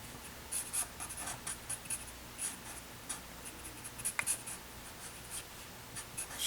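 A pencil sketches skin folds on a hand drawing, with soft, quiet scratchy strokes arriving in short irregular bursts, close up and with no voices.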